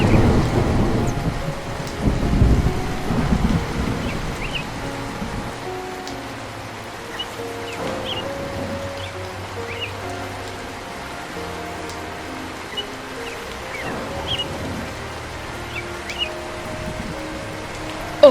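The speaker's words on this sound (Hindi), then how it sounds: "बारिश अभी भी हो रही है।" Steady rain pattering on surfaces with deep rolls of thunder rumbling early on, fading into a softer downpour with occasional drips.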